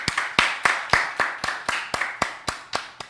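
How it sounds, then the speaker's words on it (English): About a dozen sharp, evenly spaced hand claps from a small group applauding Kelly in a room, close and dry, with each clap decaying quickly before the next. "Everybody give Kelly a round of applause for coming in and working the camera and keeping the sound on"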